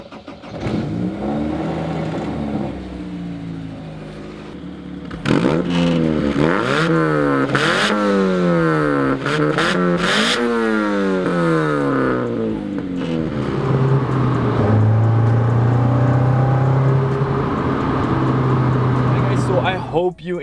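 A 1970 BMW 2002 with a Honda S2000 F22C engine swap driving past close by, the engine revving hard through rising and falling sweeps over repeated gear changes before settling into a steady loud drone.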